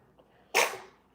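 A single sharp sneeze bursts out close by in a quiet kitchen, brief and fairly loud, fading quickly.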